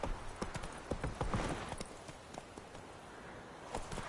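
Rapid rhythmic hoofbeats of the horse Roach galloping in The Witcher 3, a close, quick clip-clop that steadies and fades slightly, with no voices.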